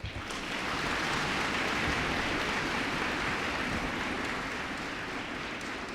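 A large audience at a National Unity Day ceremony in the Samvidhan Kaksh breaks into thunderous applause, a dense, loud, continuous roar of clapping that holds steady for several seconds with no talking over it.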